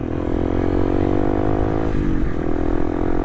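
A motorcycle on a long holiday homecoming ride from Bekasi to Lampung along the Trans-Sumatra route drones loudly and steadily close by, with a brief dip in engine pitch partway through.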